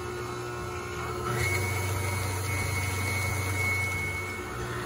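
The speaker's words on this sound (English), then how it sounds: "And now I'm going to be mixing that very thoroughly at a slow speed." An electric mixer runs steadily at slow speed through orange cake batter with juice and zest, a continuous motor hum that grows slightly louder and fuller partway through, with no talking.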